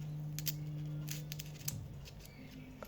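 Scissors snipping through tape around a homemade Easter squishy toy, several quick close clicks and cuts over a low steady hum.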